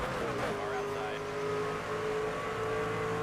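Race cars in NASCAR 25 at Homestead roar off as the green flag drops, a dense pack of engine drone with a rising rev tone under continuous talk.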